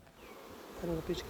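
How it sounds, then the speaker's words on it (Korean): Honeybees buzz around an opened hive frame at a beekeeping farm in Yeoncheon, Gyeonggi Province, making a close, steady hum that thickens toward the end and is joined by a faint voice. "판이 들어올리자 꿀은 없고 벌들만 가득합니다"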